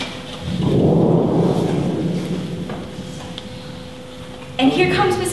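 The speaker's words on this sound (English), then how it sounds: "It's been pouring and thundering." A thunder sound effect in a stage play of Our Town rolls in as a loud, broad rumble, swelling early and slowly fading over several seconds before a brief louder burst near the end.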